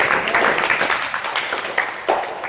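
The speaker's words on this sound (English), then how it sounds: "Come on, lift it, clap up." A church congregation applauding, with steady, dense clapping and cheering that swells and dips over a few seconds as voices call out among the crowd.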